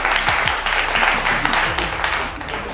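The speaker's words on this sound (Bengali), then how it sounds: "এটা জোরে হাততালি হয়ে যাক ফর টিম সি।" An audience claps loudly for team C at a Holi family game event in a store, a dense, continuous burst of applause that holds steady and then tapers slightly.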